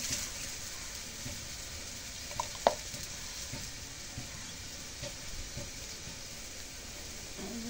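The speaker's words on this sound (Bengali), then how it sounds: "শুটকিটা তেলের মধ্যে কষানি করে নেই" Dried fish frying in oil in a pan, a steady close sizzle with a brief louder clatter near the middle and no talking.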